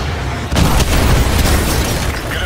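An AGM missile strike destroys a BTR in Call of Duty: Modern Warfare 2, a sudden loud boom that swells into a long, dense rumbling roar of blast and debris lasting the whole moment.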